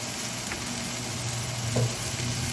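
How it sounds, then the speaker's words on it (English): Oil sizzles and crackles steadily in a pan as eggs fry, with a low hum underneath and a couple of faint taps. "I'm going to fry some eggs"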